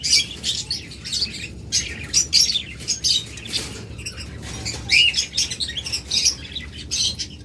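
Loud, harsh squawks and chirps from caged birds for sale overlap in a busy, continuous chorus, with many birds calling close by at once.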